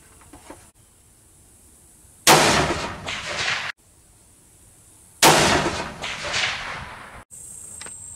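Two loud, sharp rifle shots from a 7mm Remington Magnum firing Federal ammunition off a lead sled outdoors, each a hard crack followed by a rolling echo that fades over about a second, spaced roughly three seconds apart.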